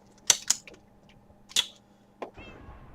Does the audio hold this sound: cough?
no